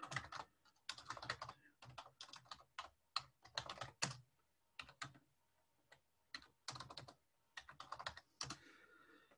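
A terminal command typed on a computer keyboard, with rapid close-up key clicks arriving in uneven bursts and short pauses, crisp and fairly loud, with no talking.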